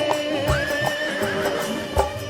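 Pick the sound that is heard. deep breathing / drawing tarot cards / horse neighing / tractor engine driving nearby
horse neighing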